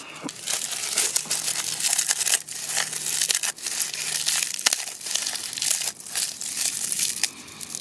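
Paper birch bark is crumpled and crushed by hand at the center of a fire-starting birdnest, giving close, continuous crackling and crinkling with brief pauses and no talking.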